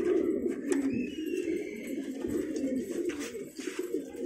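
Pigeons in a racing pigeon loft give a steady, low, throaty cooing that runs throughout, close by, with faint background chirps and rustles and no talking.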